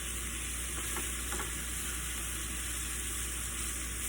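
Mushrooms, garlic and onions fry in oil with a steady, dense sizzle and soft crackle, heard close and alone without any talk.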